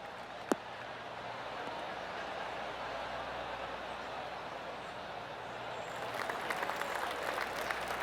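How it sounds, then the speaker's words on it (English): Soft, polite crowd applause rises gently toward the end of a golf hole in the video game PGA Tour 2K23, faint and distant over steady ambient background noise, with one sharp tap near the start. "Oh, golf clap."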